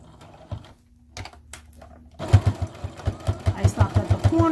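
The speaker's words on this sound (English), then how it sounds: "You're sewing through 4 layers of fabric." A sewing machine stitches through four layers of fabric for a potholder, starting quietly and then running in a steady, close, rhythmic rattle of rapid stitches for the last couple of seconds.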